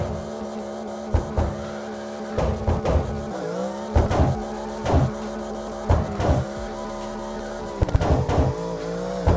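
Drifting car in CarX Drift Racing Online, a Karnage 7C thrown into a reverse entry: engine drone with long tire squeals and repeated sharp skid bursts, steady and close, with no talking.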